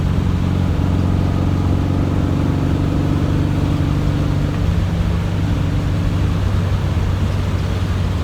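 Inside an old VW car cruising at freeway speed, a constant broadband roar of wind and road noise blends with a low engine drone, loud and unbroken, with no talking.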